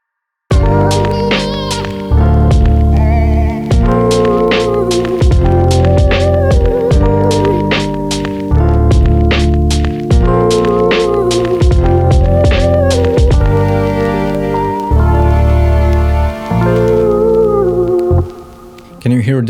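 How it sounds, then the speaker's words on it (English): Lo-fi hip-hop beat built in FL Studio, with mellow Rhodes piano chords, a simple thumping drum pattern, deep bass and vocal samples under a soft vinyl-noise hiss, playing loud and steady in a looping groove for nearly twenty seconds. "Here is my lo-fi hip-hop project that I've called Kites. It is very simple. It has Rhodes piano, simple drum pattern,"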